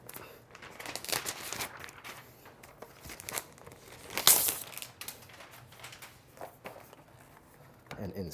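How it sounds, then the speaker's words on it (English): Plastic wrap peeled off a new 16-inch MacBook Pro, with close crinkling and tearing rustles in uneven bursts and one sharp crackle midway over a faint background. "And as usual, you have this plastic wrap."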